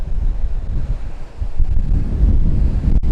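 Strong wind buffets the microphone at a boat harbour in Port Stephens, a loud roaring rumble that gusts and dips, with waves washing in underneath and no voices.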